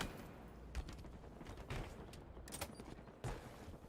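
Halo gunfire during a world championship match, a run of rapid, distant-sounding shots in clustered bursts with a few heavier thumps, faint and muffled under a constant background hum, no talking.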